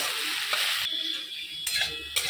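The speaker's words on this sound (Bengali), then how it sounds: "এবার আলুটাকেও আমি ভালো করে ভেজে নেব।" Potatoes sizzling and frying in oil with a little turmeric and salt in a pan, with bursts of louder hiss as they are stirred, close up.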